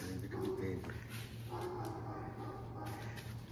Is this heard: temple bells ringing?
no